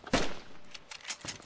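Gunfire in the DayZ video game during a large battle in Berezino: a loud opening burst followed by several quicker, fainter shots scattered across the rest of the moment.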